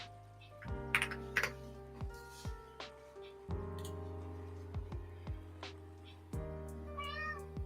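A nearby house cat named Apollo meows several times in short, bending calls. Soft clicks of typing on a keyboard are scattered between the meows.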